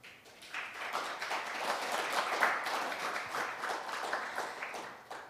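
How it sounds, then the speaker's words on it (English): Business forum attendees give a warm round of applause to the session's speakers. The clapping is soft and distant, a dense patter that swells slightly in the middle and carries on evenly. "Please give them another warm round of applause"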